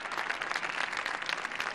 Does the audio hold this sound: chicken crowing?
no